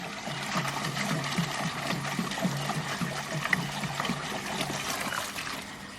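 Gasoline steadily poured from a container into a small fuel tank, a continuous close liquid trickle and gurgle with a low pulsing undertone, running evenly for several seconds without any talking.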